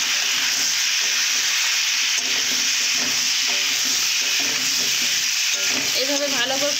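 Pumpkin curry seasoned with chili powder is fried in a pan, a loud continuous sizzle overlaid with repeated scraping strokes as the mixture is stirred.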